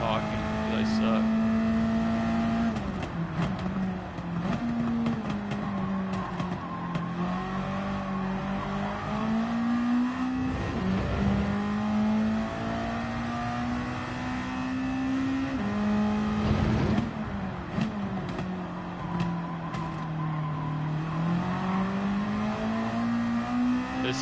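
Car engine revving and pulling under acceleration while driving in a Wakai Attack event, a steady close drone with rising and falling pitch throughout, with a person talking over it.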